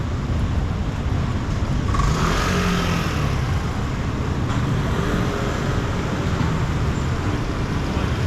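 A car passes along Travessa da Barca, a narrow street in Macau at night, as a broad roadway rush that swells and fades over constant background traffic noise.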